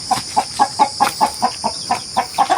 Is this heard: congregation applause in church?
no